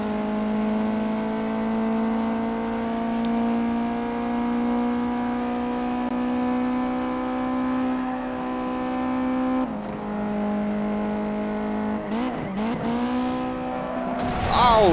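Race cars in Gran Turismo 2 drone on with a steady engine tone, then several sharp swoops and tire squeals near the end, with a voice talking at points.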